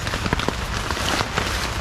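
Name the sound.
rain falling on a tarp camp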